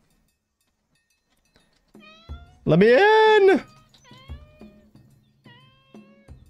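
A cat meows loudly in a video game, one long drawn-out cry in the middle with shorter mews before and after, while a person talks over parts of it.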